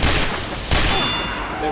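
Dense gunfire and explosions in the video game Team Fortress 2 form a loud, continuous roar of overlapping shots with a heavy blast partway through.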